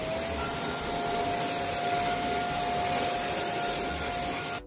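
A Gaabor dust mite vacuum cleaner with a UV light runs steadily nearby, giving a loud, constant whirring motor drone with an airy suction hiss and no pauses.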